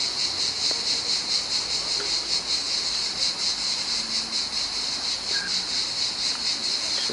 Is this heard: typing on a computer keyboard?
no